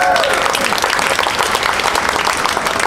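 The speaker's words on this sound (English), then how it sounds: "Let's give him a round of applause." Guests applaud at a garden wedding ceremony, a steady, fairly loud stretch of many hands clapping close by, with a brief trailing voice at the very start.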